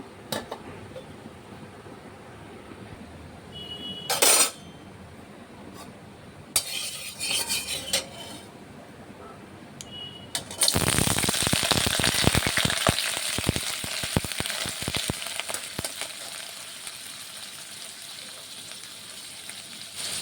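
Potatoes frying in hot oil in a kadai, a loud, steady sizzle with crackling pops that starts abruptly after quieter clinks of utensils against the pan.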